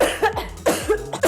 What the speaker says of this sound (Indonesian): Ini aku batuk ya, Mbak, bukan COVID, tenang.